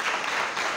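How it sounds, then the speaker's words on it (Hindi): A brief, dense burst of audience applause for a visiting professor at a college lecture, broadband and steady, with no voices. "सर के लिए एक बार तालियां बजाएंगे सब"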